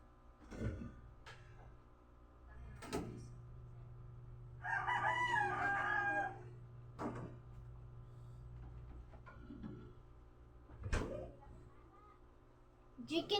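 A rooster crows once, loud and fairly close, midway through, while people talk quietly and a few sharp knocks sound around it.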